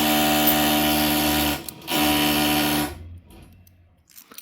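A power drill whines steadily nearby, loud and tonal, with a brief pause midway before resuming and then cutting off, leaving near silence with a faint final burst.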